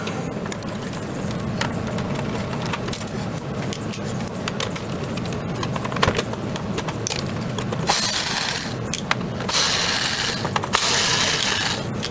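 A screwdriver works on a Sony PlayStation 3, giving rapid ratcheting clicks and mechanical rattling over a steady background hum. The clicks grow denser and brighter toward the end, and there is no speech.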